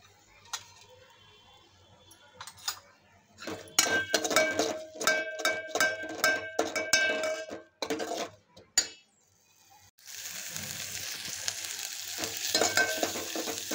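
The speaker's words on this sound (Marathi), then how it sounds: "सगळं परतून घ्यायचं।" Mung beans with turmeric being sautéed in a pan for Maharashtrian mugache medaga, with a spoon scraping and clinking against the metal in bursts before a steady loud sizzle takes over, close up and without talk.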